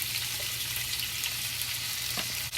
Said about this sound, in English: And fry the bacon.